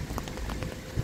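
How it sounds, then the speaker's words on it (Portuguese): Light early-morning rain in Porto, Portugal patters softly and steadily on a surface nearby, with a few faint footsteps. "O bom é que tá fraca a chuva"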